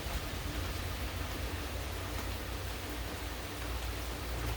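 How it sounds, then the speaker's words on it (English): Rain falls steadily on a wet Georgia afternoon, a dense, even hiss of drops on surfaces that holds constant throughout with no voices. "It's a rainy afternoon in Georgia."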